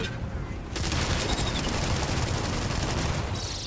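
Weapon fire in Starfield, a dense continuous burst of rapid gunfire that starts abruptly and keeps going loud and close, with game noise underneath.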